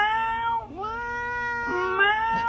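A cat meows in a series of clear, drawn-out cries, close and fairly loud, with a short break between calls and no talking.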